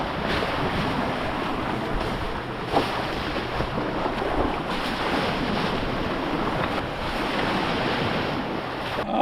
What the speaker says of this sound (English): When there's a big wave, it's just hitting my trampoline all the time